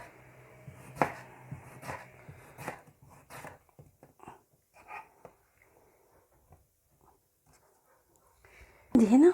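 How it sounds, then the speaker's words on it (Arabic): A knife slices tomatoes into rounds on a cutting board, giving a run of sharp, irregular taps and knocks that thin out midway, followed by a sudden loud burst of noise at the very end. "عندي طماطم هقطعها طرنشات برضو."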